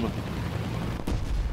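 A bomb explodes in the combat game War Thunder, landing as a sudden dull boom that rolls out against steady engine and battle rumble.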